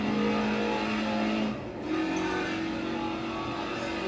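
A steady, loud engine drone from a car in a VR racing simulator game, with a brief dip partway through as the engine note shifts before it holds on.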